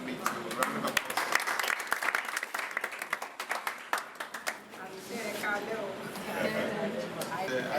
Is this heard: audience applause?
yes